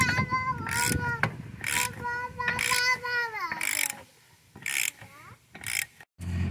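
A wrench cranks down a bolt on a trailer leaf spring, giving several short, loud bursts of ratcheting clicks at close range, separated by brief pauses.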